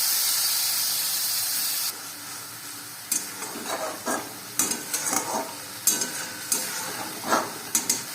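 Tomato and green chilli paste hits hot oil in a pan for navratan curry, starting with a loud continuous hiss of sizzling, then the frying quiets under repeated spoon-stirring scrapes and clatters.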